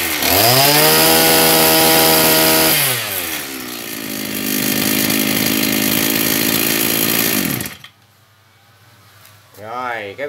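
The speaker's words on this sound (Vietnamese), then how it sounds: "Rồi cái video mình test cái máy cắt cỏ Maru Yanma đến đây là tạm dừng nha các bạn" A Maruyama JHC26 26cc brush cutter engine revving high, dropping to a lower idle-like drone, revving again, then cutting out, with a voice briefly heard after it stops.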